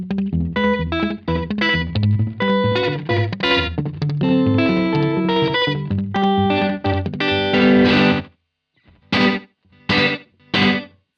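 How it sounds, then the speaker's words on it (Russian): Electric guitar through a TC Electronic Prophet digital delay set for vintage slapback plays quick surf-style phrases with short tape-like echoes, loud and close, ending in a few clipped stabs after a short pause. "Цифровой дилей хороший выбор для того, чтобы делать slapback дилей"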